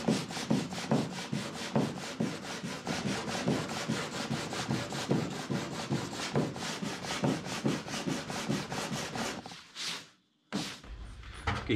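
Sandpaper rubs steadily back and forth over glossy painted plywood in quick, regular strokes, close and loud, ending in a brief pause and a couple of final scrapes.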